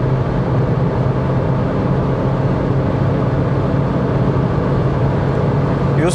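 Hyundai Accent Era 1.4, rated 97 hp, accelerating at about 130 km/h and 3700 rpm, giving a steady, loud mix of engine drone and road and wind roar heard from inside the cabin.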